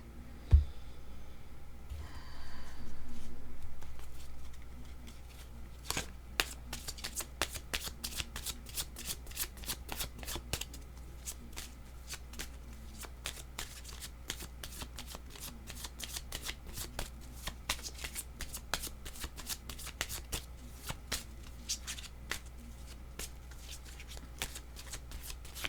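Tarot cards shuffled by hand in a long run of quick riffling flicks, close and fairly soft, with a brief rustle of handling near the start.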